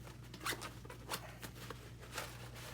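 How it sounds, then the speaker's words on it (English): A zipper runs along a tactical personal effects pouch in a few short, quiet pulls, soft and close with no talking. "with a quick zip"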